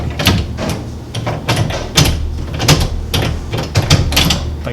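A coin change machine at a laundromat being worked open, a run of metallic clunks, rattles and latch clicks in an uneven rhythm, close and fairly loud.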